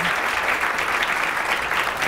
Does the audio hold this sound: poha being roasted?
no